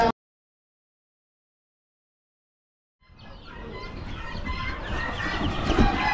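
Lavender Orpington chickens at a poultry auction cluck and murmur in a busy, continuous flock chatter that swells gradually after a few seconds of silence.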